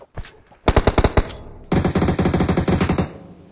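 Rapid automatic gunfire in a video game comes in two loud bursts, a short volley of about eight shots and then a longer rhythmic string, close and punchy, with no voices over it.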